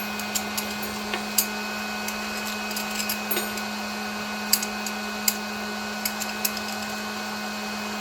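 A hot air gun blows a steady whirring hiss with a low hum while heating the leaking MK8-style hotend of an Ender 3 printer, with faint ticks and clicks dotted over the constant drone.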